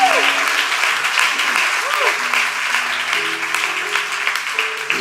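A church congregation applauds in dense, sustained clapping that fills the whole stretch, with a musical tone and voices heard beneath.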